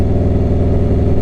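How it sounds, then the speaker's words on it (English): A motorcycle exhaust rumbles while riding on North Texas roads, a loud, close, rapid pulsing throb that holds steady throughout. "We're getting a good amount of exhaust noise right there"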